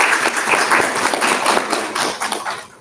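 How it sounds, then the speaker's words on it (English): Audience applause for a candidate at the close of a student council debate event, a steady crowd clapping filling the whole stretch, fairly loud and gradually tapering off toward the end. "Let's give our candidate a round of applause."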